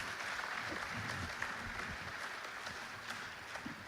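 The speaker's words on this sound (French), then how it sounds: "Merci beaucoup, on peut les applaudir." Applause from a conference audience in a hall, a steady wash of clapping sustained for about four seconds at moderate level, with no speech over it.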